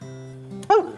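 A nervous female dog lets out a thin, high whimper that rises into a short, sharp yelp close by, over a low steady hum.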